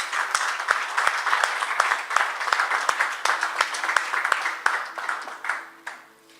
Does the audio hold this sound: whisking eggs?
no